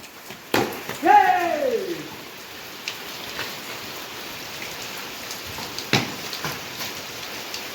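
Steady rain hisses throughout an outdoor cricket game in the Konkan monsoon, with a brief falling whistle-like call and a few sharp knocks over the constant wash of drops.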